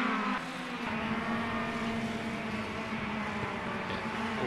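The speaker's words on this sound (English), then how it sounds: "Williams has gone around there, so he's lost the back end under braking" A touring car in the Automobilista racing game holds a steady, droning engine note with tonal whine as it loses the rear under braking at Cascavel, with loud, continuous race-car noise throughout.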